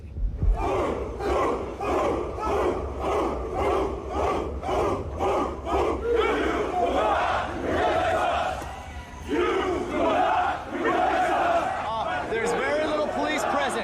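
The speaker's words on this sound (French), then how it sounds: "Les contre-manifestants sont encerclés par la foule des porteurs de flambeaux." A large crowd of torch-bearing protesters at a Charlottesville rally chants in loud, rhythmic unison, the shouts repeating steadily before breaking into a rowdier, overlapping roar of many voices.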